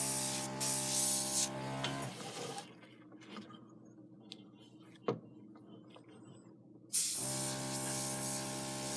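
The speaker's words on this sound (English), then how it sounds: "With the airbrush and the rotating table, I'm able to bend my stream of ink where I want it." Airbrush spraying alcohol ink onto a surface on a rotating table, a loud hissing burst with an underlying motor hum, then near quiet with small clicks, then the spray resumes sharply near the end.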